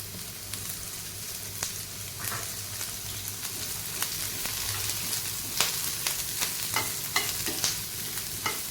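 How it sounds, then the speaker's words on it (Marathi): Finely chopped large onions fry in a little oil with a continuous sizzle, while a spatula scrapes and taps the pan at irregular intervals, close and fairly loud. "आता हे आपण फ्राय करून घेऊयात आता ह्या कांद्यामध्ये आपण अर्धा चमचा तेल टाकूया"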